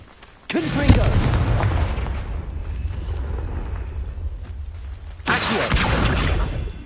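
Confringo fire spell explosions in the video game Hogwarts Legacy: two loud, heavy booming blasts several seconds apart, each followed by a sustained rumbling roar, with a spoken voice in between.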